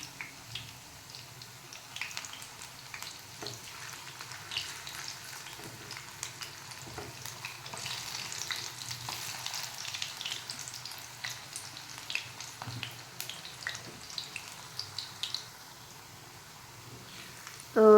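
Mixed vegetable thepla frying in a pan over medium heat, giving a soft, steady sizzle with faint scraping and stirring sounds throughout. The sizzle stays low and close, and no one speaks.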